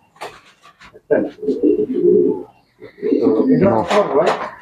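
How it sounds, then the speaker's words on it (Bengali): Andalusian pigeons coo in a few soft, throaty bursts close by, with short breaks between calls and a voice speaking over them. "দেখেন আন্দোলিজানের হাউস পিজন কত বিশাল সাইজের কবুতর।"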